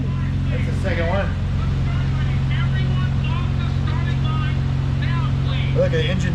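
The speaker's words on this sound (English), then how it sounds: "Look, the engine's still going." Nissan R33 GTR engine running on a dyno, a loud steady droning idle with a constant low tone as voices talk over it.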